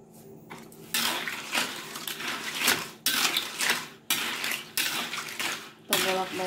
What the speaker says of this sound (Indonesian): Kalau saya mah langsung digoreng aja dengan api sedang.